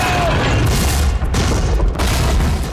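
Cannon fire from the pirate drama Black Sails, a loud, continuous wall of deep booming blasts with dense low rumble across the whole stretch, heavy and close.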